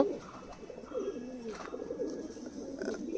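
A large Giribaj pigeon held in someone's hand coos in low, throaty, repeated murmurs, close and fairly soft, with faint background noise.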